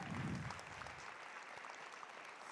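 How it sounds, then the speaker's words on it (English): Applause from a gala audience, a soft, steady wash of clapping heard from a distance with a low rumble at the start and no talking. "One more round of applause."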